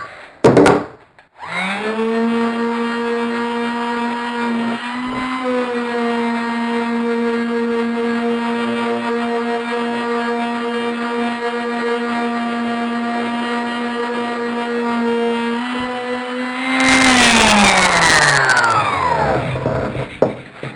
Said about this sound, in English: put the sandpaper into my electric sander